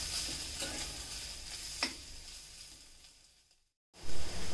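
Chopped chilies stirred and roasted with spices in a pan while preparing veg crispy, giving a steady sizzle with scraping stirs, one sharper clink, then a brief drop to silence before louder frying resumes.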